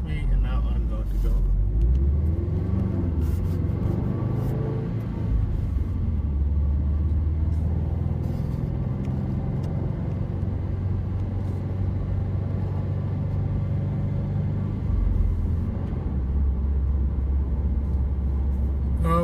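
A car pulling away on a road, heard from inside as a steady, loud low engine rumble and road drone that holds throughout and swells slightly toward the end.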